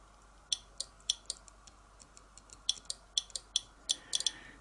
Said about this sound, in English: can you hear the relay clicking?